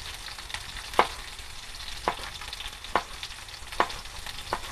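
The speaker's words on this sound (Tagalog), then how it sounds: "So, ayan, ginagisa na natin. Mag-start na tayo magluto ng munggo." Garlic sautéing in a pan for mung bean stew, an even hiss of frying punctuated by regular scraping stir strokes about once a second.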